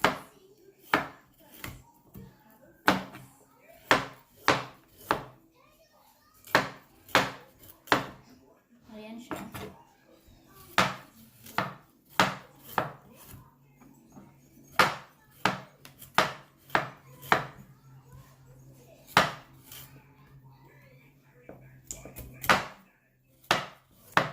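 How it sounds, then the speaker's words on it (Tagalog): Knife blade chopping through pork and cassava on a cutting board, a long series of sharp, close thuds in uneven bursts with brief pauses between runs, each strike loud against a quiet kitchen background. "Ganyan lang, paghiwa. Sorry, maingay. Hiwain lang siya hanggang matapos."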